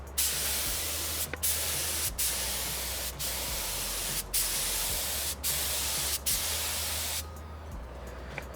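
An HVLP sprayer misting chalk paint in steady loud bursts of hiss, seven or so pulses separated by brief gaps, ending with quieter rattling handling noise.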